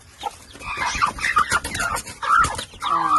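Mother hen with her five chicks, close soft repeated clucking mixed with high chirps, continuous and busy throughout.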